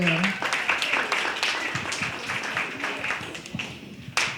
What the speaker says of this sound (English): Let's give them another big round of applause for putting together this excellent presentation for you.